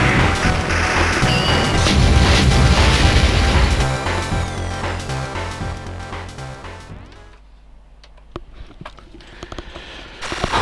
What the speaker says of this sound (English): Bomb, I think.